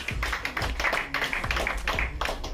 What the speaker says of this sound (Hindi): उनके लिए भी जोरदार तालियां बजाइएगा